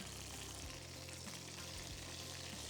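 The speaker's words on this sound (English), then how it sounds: "you always want to get a nice little color and sear on the fat as well" Steak fat searing in a hot pan gives a steady, close sizzle that holds without a break, with faint low clatter beneath and no voices.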